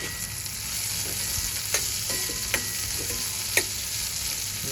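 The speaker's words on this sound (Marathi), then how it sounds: "यावर मी तीळ घातले आणि थोडी कोथिंबीर घातली आहे. आणि मिनिटभर परतून घेते." Red pumpkin bhaji sautéing with sesame seeds and coriander, a constant loud sizzle with three or four light spatula taps against the pan, close up.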